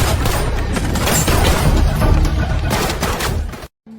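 Gunfire in a film shootout: a dense, loud barrage of overlapping shots and booms rolling continuously for several seconds before cutting off abruptly.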